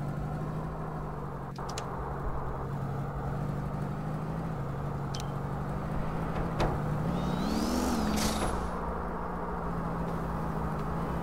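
A car in Garry's Mod drives with a steady engine drone, its pitch rising and falling as it slides through small drifts, with a brief higher squeal near the end.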